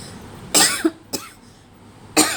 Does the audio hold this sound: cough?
yes